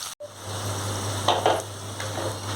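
Spring rolls shallow frying in a pan of oil, a steady close sizzle with a few scraping stirs and turns partway through, and no talking.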